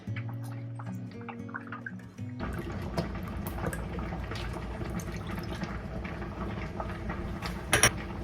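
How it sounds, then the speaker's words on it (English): Half a cup of lemon juice pours into a bowl for peach jam, a soft continuous liquid splash that follows a short stretch of quiet music. "I will also add half a cup of lemon juice"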